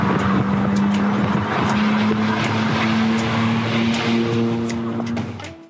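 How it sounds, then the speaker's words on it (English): A 1950s Jaguar XK140 sports car drives along with a loud, close engine drone that holds steady at an even pitch, then fades slightly in the final moments. "And that is the Jaguar XK140, a car that comes from the period of Jaguar's history when the sky was truly the limit."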